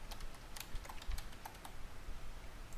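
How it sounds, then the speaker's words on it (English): Password keys tapped on a computer keyboard during a VMware vCenter Server Appliance setup, a quick irregular run of soft, close clicks alone at low volume. "So I'm going to type my appliance root password,"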